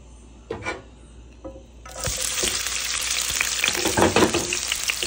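After a few quiet clinks, chopped onion drops into hot oil with spices and a loud, steady sizzle bursts up and carries on, with scraping stirs over the frying.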